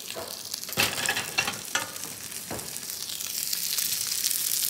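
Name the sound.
breadcrumb-coated sardine frying in a pan while basting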